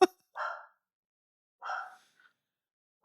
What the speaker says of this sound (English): Got very distracted by Stevie barking